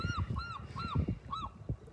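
A seagull calls on a low-tide beach in West Seattle: four close, loud, wavering squawks spaced about half a second apart, over steady background noise.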